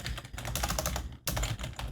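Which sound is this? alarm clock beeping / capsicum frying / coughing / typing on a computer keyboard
typing on a computer keyboard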